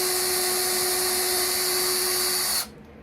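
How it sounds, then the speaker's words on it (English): A drill bit bores screw holes into a wooden zebrawood humidor box, a steady high-pitched whine running close and loud, then cutting off abruptly near the end. "slowly drill that out."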